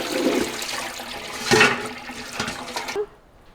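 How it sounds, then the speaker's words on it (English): Water from rinsing cooked noodles in a pot drains away in a steady rushing gush, with a couple of louder splashes midway before it tapers off abruptly. "drain all the water out."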